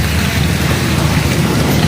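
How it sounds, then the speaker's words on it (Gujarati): Heavy rain falling, a dense, steady hiss of downpour with a low rumble beneath, loud and continuous for the whole stretch, with no voices. "અત્યારે વરસાદ ચાલતો છે"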